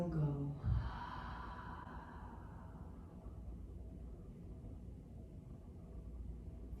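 A long, close, soft exhale during a yoga breathing practice, starting with a brief vocal onset and then trailing off into a quiet, steady breath.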